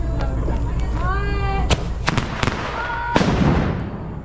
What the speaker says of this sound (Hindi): हम चलते हैं बॉम्बी बम फोड़ने, बॉम्बी बम बॉम्बी बम